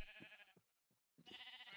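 Sheep in the Minecraft video game bleat twice, clear and close, in short wavering cries separated by a brief silent gap, with no talking.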